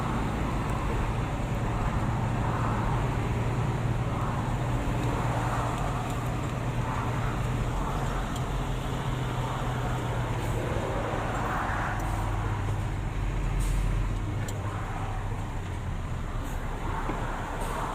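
Steady traffic jam noise on a congested Taipei street, a continuous low rumble of idling and creeping cars and trucks with engine drone throughout, nearby and fairly loud, with no talking.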